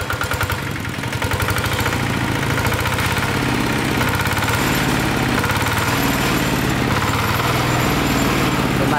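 A Japanese Iseki GA60 diesel tiller with a 6 HP engine runs steadily up close, a loud, continuous chugging rumble with rapid regular firing pulses and no talking.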